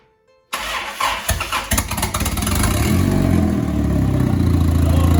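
Turbocharged Honda H22 engine in an Acura CL cranking, starting abruptly after a near-silent moment, then whirring loudly and steadily with a rising, rhythmic churn.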